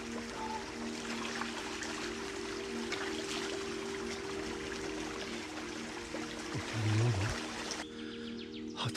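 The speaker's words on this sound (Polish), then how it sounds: "Tylko jeszcze chwilkę się zrelaksuję tutaj przy tym pięknym strumyku." A small stream flows in a steady, soft rush and trickle, continuous and close, with a brief clunk near the end.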